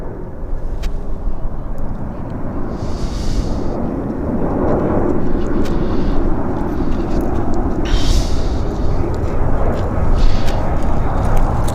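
An airliner at Vancouver YVR airport makes a sustained, deep jet roar that swells in the middle and stays loud, with a few brief higher whooshes rising above the rumble.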